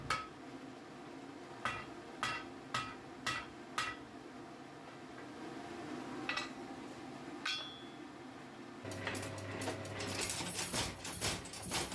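Hammer on metal over the bick of an anvil while forging a garden fork: a string of sharp, ringing strikes at a steady pace, then scattered blows fading into busier clattering and a low hum near the end.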